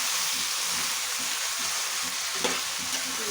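Coriander powder being stirred into spices frying in a pan for a hilsa fish chachari, a steady sizzle with soft rhythmic scraping strokes throughout.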